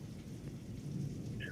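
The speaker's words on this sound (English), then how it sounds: "I hear the rain." Rain heard through a remote caller's microphone makes a soft, steady hiss and patter behind a quiet line, with faint low rumbling.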